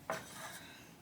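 A baking pan for Bisquick cinnamon rolls is brought over and set down on a kitchen counter with a single close metallic clatter, followed by a faint settling rattle.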